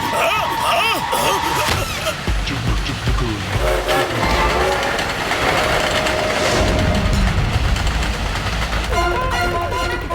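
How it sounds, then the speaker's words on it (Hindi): A cartoon ghost train approaches loudly with rumbling wheels, clacking rails and horn blasts while characters talk over it. "कोई ट्रेन है, ब्रेक मारो वरना एक्सीडेंट हो जाएगा।"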